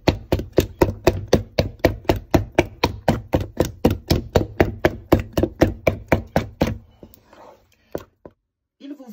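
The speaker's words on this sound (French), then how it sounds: "il faut bien battre la pâte, c'est vraiment important" Cake batter for a flour cake is beaten by hand in a bowl, producing about thirty rapid, evenly spaced slapping strokes close up, then stopping, followed by quiet handling noises.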